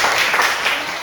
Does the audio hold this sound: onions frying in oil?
no